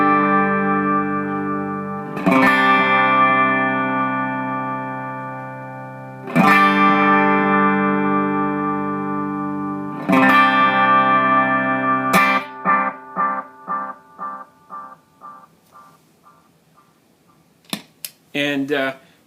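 Guitar chords run through a Diamond Memory Lane 2 delay pedal: three long ringing strums, each sustaining and decaying, then a quick run of plucked notes whose echoes repeat and fade, ending with a few sharp taps.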